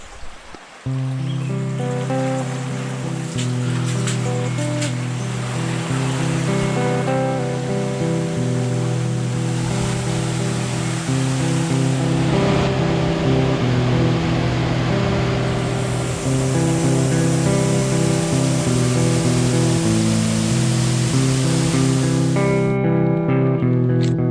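Water rushes over a river weir beside a church, a steady, loud roar of falling water that keeps on without a break.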